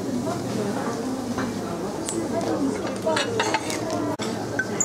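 Clean plates clink and clatter as they are picked up at a Japanese buffet restaurant in the Seishin Oriental Hotel. Several light, scattered knocks ring out over a steady background of dining-room chatter and voices.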